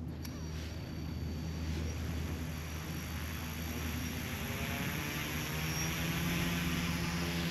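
An RC helicopter barely lifting off, its rotor and motor giving a steady, continuous whine and whir with a low buzzing drone, moderately close and holding a constant level throughout.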